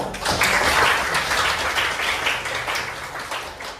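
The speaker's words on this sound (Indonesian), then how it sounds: "Oke, tepuk tangan." Students in a classroom clap together in a dense, steady burst of applause that carries through without talk and eases slightly toward the end.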